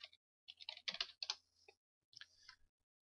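Keystrokes on a computer keyboard while typing a search into a software help system, in two bursts of rapid, close, fairly quiet clicks separated by a short pause.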